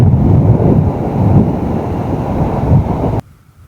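A steady, heavy roar of surf and wind rumbles continuously, deep and loud, then cuts off abruptly near the end.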